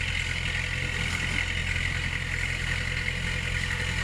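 A farm tractor engine runs at a constant pace close by, a steady low drone with a faint mechanical clatter on top, unbroken and with no talking.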